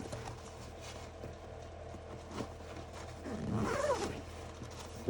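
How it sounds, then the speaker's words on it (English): A zipper with double pulls is drawn on a Hazard 4 Rocket 17 sling bag, giving one brief, close rasp near the end against a quiet background. "Of course you got double zipper pulls on this one too."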